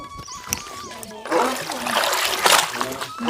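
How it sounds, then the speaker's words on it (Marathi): Voices chatter close by, then water splashes and sloshes loudly for a couple of seconds as a Gauri idol is pulled out of water. "गौरीला पाण्यातून काढतो"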